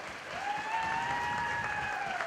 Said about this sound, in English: Give these people a nice round of applause.